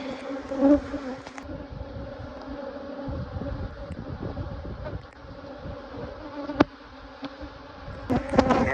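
Honeybees buzz around hive colonies in a beeyard during September swarming season, a continuous soft hum of many insects with brief louder buzzes passing close.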